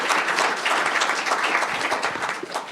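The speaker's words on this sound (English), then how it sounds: "if we can give them a round of applause" An audience at a school district board meeting applauds steadily, a dense patter of many hands clapping at moderate distance for a few seconds.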